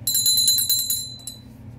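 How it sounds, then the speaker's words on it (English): A bright, high metallic bell rings in rapid repeated strikes to open a match in a WWE wrestling video game, clanging for about a second and a half and then fading, with a low crowd rumble beneath. "Ring the bell."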